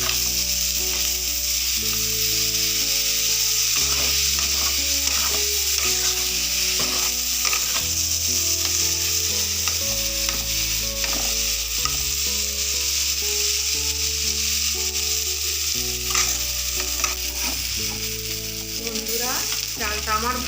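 Gobindobhog rice fries in white cooking oil with a steady sizzle and occasional stirring scrapes, while background music plays throughout.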